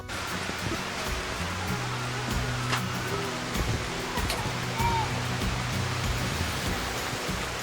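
Elephant Falls, a three-step waterfall in Meghalaya, roars with a steady, dense rush of falling water that stays loud and unbroken throughout.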